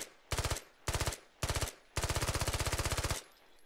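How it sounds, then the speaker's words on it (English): A 9mm submachine gun fitted with an EXPS2 sight fires in the video game Squad: three short, loud bursts, then one long sustained burst of rapid, evenly spaced shots, close and alone with no talk. "9mm submachine gun with the EXPS2 hollow, and boy oh boy can this thing fire off rounds"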